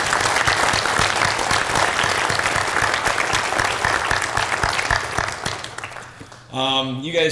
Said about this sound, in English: So if you all could give him a round of applause.